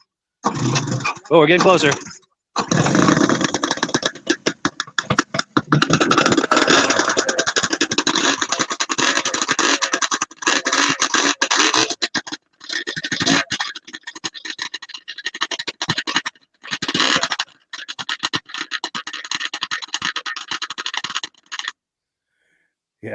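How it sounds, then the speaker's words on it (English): A vintage snowmobile engine starting and running, with stinger exhaust pipes crackling, heard as a harsh, raspy roar in long bursts cut by pauses, fairly loud with a person briefly speaking over it. "I like how those stinger pipes make that crackling sound"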